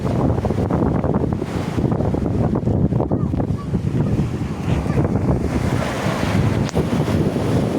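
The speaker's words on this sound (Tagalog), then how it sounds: "Yan ang wave ng beach." Ocean waves wash and crash on Paratong Beach in Bangar, La Union, Philippines, in a continuous surging roar, with strong wind buffeting the microphone throughout.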